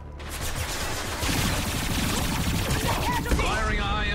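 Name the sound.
high-impact gunshot in Mass Effect 2 video game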